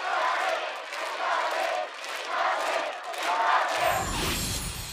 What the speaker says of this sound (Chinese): 跟大家掌声给我身边的 Metro 录音团，还有帮我弹钢琴的 Johnny